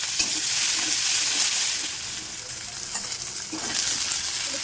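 Dried red chilies, bay leaves and five-spice seeds are tempered in hot oil left from frying fish, giving a steady, fairly loud hissing sizzle that dips slightly midway then swells again; no talking.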